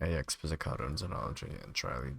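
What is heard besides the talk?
None of the usual background noises is heard.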